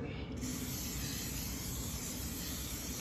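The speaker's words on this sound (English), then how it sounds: "we'll take our Scotchgard and we'll just spray it" A close, continuous aerosol spray of Scotchgard fabric protector onto car upholstery hisses steadily for about three seconds after a brief moment of quiet at the start.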